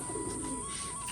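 Pigeons in a loft give a soft, low coo over a faint steady background hum, a single brief murmuring call without other sounds.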